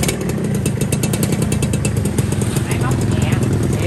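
Suzuki Satria 120 motorcycle engine running steadily at idle with a fast, even mechanical pulse, loud and close, while a person talks over it.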